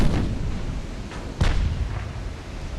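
Warship broadside gunfire in Ultimate Admiral: Dreadnoughts, with heavy booms from 12-inch main guns: low rumbling blasts and one sharp, loud report in the middle, over continuous rumbling battle noise.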